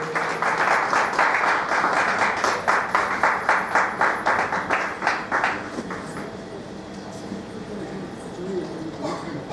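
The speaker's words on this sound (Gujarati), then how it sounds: "ખૂબ તાળીઓના ગણગણાટથી વધાવો" A crowd applauds a person named Shastriji at a Gujarati gathering, a dense run of clapping that rises into steady rhythmic beats, then thins and fades to scattered claps after about six seconds.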